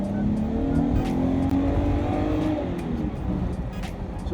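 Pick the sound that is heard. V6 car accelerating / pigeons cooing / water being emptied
V6 car accelerating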